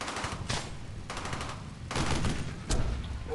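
Gunfire in the World War II shooter Brothers in Arms, with dense, rapid bursts of automatic fire and overlapping shots crackling loudly in short waves.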